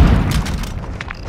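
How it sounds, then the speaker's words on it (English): A grenade goes off in a first-person shooter, one loud close boom whose rumble settles away over about a second. "Grenade!"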